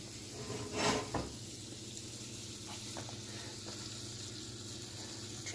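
A sautéed mixture tipped into spaghetti sauce in a pan, giving a steady, fairly faint sizzle with a brief louder splash near the start and a few small clinks afterward.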